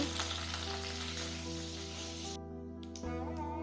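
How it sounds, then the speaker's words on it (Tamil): Dried red chillies, cinnamon and curry leaves fry in hot oil for a prawn gravy, a dense, steady sizzle with crackling, close and moderately loud, and a constant low hum beneath it. "கடுகு பொரிஞ்ச பிறகு வரமிளகாய் பட்டை இதை சேர்த்துக்கோங்க கருகப்பிள்ளையை இதில் போட்டுக்கோங்க"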